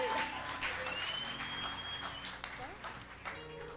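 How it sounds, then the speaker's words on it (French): Audience clapping at a church Women's Day gathering to encourage a little girl, a crowd's steady applause mixed with some background voices and a faint tone, moderately loud throughout. "Can we clap for her to encourage her?"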